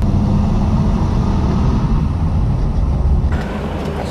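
Triumph 2500 MK I car held in third gear while driving around the block, a steady low engine drone and road rumble heard from inside, no talking.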